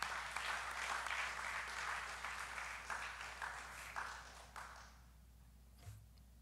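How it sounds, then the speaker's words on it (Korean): Church congregation clapping during a Friday special service, husbands applauding their wives; a sustained round of applause that fades out toward the end, leaving a quiet room. "우리 남편들은 아내를 위해서 박수 한번 칠까요?"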